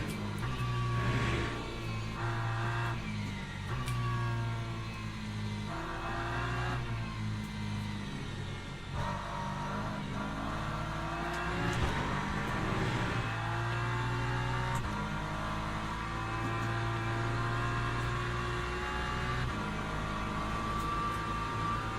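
Race car engine in the video game Le Mans Ultimate at Silverstone, droning steadily and loud throughout, with harmonic pitch rising and falling through repeated gear changes as the car is driven to warm its tyres, no talk over it.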